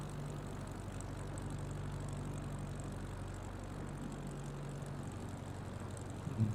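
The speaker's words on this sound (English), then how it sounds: "you're really a whingy plane, you know that? Really whingy." Propeller airplane engine in a flight simulator bush-flying trip over Finland, a steady, even drone held close and loud throughout, alone with no talking.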